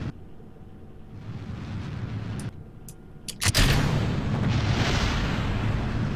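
A rocket engine ignites in Kerbal Space Program, a few clicks and a pop, then a loud, sustained roaring burn that continues steadily to the end.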